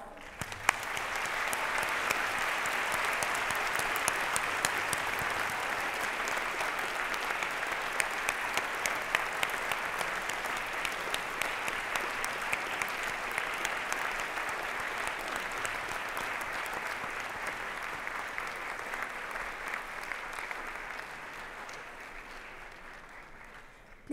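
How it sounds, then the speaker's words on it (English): A large auditorium crowd of convocation graduates gives their parents a loud, sustained round of applause lasting over twenty seconds, steady and dense throughout before tapering at the end. "give them our loudest applause."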